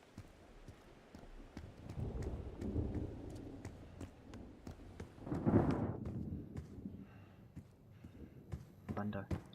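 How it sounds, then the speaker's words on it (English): Thunder rolls through the Black Ops 6 campaign, a low rumble swelling to a heavy crack midway amid rain and game ambience, with a person talking over it. "Thunder."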